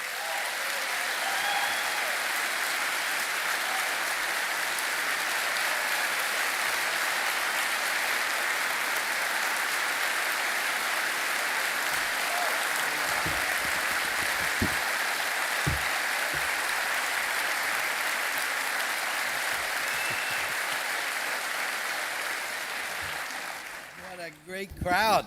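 Sustained applause from a large church crowd welcoming a guest speaker, dense and even for over twenty seconds before fading out at the end.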